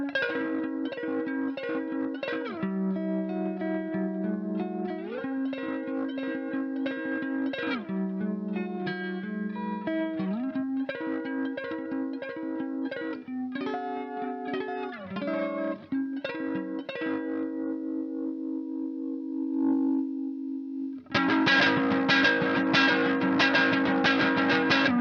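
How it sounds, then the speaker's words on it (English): An electric guitar played through an amp pushed into fuzz with a tremolo pedal: distorted sustained chords shift over roughly 20 seconds, then a louder, denser, buzzing burst of fuzzed strumming closes the passage. No one speaks. "bring in the gain until my amp gets into fuzzy territory, but with extra tremolo Y texture"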